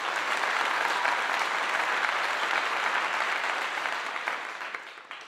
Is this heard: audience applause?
yes